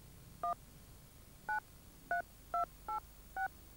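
Telephone keypad tones from a TV commercial, seven short dual-tone beeps pressed at an uneven pace over faint background.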